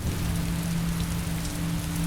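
Heavy rain pours down steadily as an even, dense hiss with a low rumble beneath, loud and unbroken throughout, with no voices.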